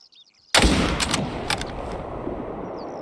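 A single loud rifle gunshot during an ibex hunt in a game set in Spain, a sharp crack after near silence, followed by a rolling echo and a few faint distant reports as it fades.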